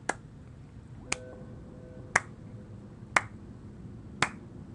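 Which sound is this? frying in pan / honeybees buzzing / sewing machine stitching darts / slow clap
slow clap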